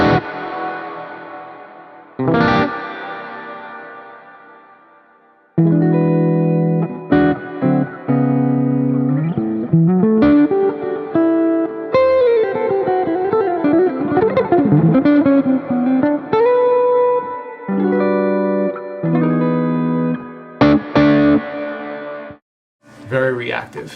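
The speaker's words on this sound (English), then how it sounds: "So we can put on a little reverb," Electric guitar through a Neural DSP Archetype: Plini amp simulator plugin playing distorted, effected chords and single-note lines with reverb tails, loud and close, with brief pauses between phrases.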